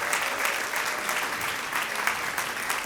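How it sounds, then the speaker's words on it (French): A live audience at a church gathering claps steadily and loudly for a pastor, dense and sustained throughout with no gaps. "l'encourager et l'applaudir bien fort?"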